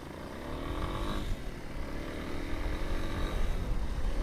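Motorcycle accelerating as the throttle is twisted, a faint engine note rising in pitch and swelling, heard from the rider's position with steady wind and road noise underneath.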